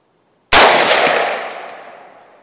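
An AR-15 rifle fires one sharp, loud shot after near silence, followed by a long ringing decay that fades over about two seconds, with no voices.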